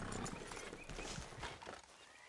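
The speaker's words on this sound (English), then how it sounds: "Get the horse out of here!" A horse in Red Dead Redemption 2 snorts and shuffles with quick, rough bursts of noise, heard briefly and fairly close.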